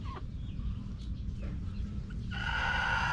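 Chickens in a backyard coop, including three roosters among the hens, cluck and call nearby, with a steady low rumble underneath and a sustained, louder bird call rising near the end.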